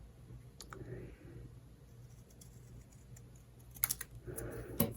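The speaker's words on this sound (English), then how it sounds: "we're going to grab a scissor, and you are going to cut from this corner up to there" Scissors cut through paper at the corner of a craft photo keeper, giving a few faint, crisp snips near the end over a quiet room with no talking.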